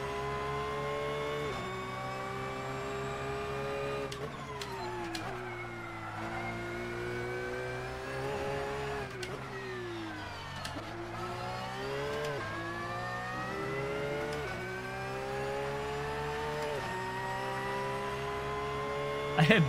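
A race car engine in Assetto Corsa revs and shifts, its pitch rising and falling again and again over a steady drone, near and loud throughout.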